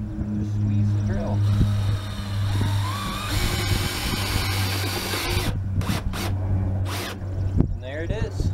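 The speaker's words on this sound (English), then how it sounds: "put it on the nut here, and just squeeze the drill" A power drill drives a wrench to spin a thru-hull nut off a boat hull, whirring loudly and rising in pitch with several short bursts and clanks near the end, close and under some background noise.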